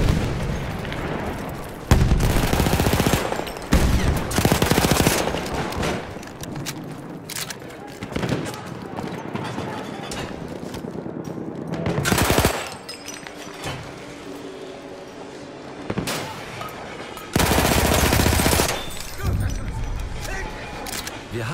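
Automatico M1918 automatic fire in Battlefield 1 conquest gameplay, loud bursts of rapid gunfire breaking out repeatedly among explosions and battlefield noise, with soldiers' voices shouting between bursts.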